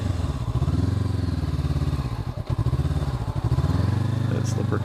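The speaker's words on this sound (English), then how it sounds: "And you rev it a little bit." A 2021 Honda CB500X adventure motorcycle idles and revs nearby. Its engine thrums in a steady pulsing beat, rising briefly in a short rev before settling back.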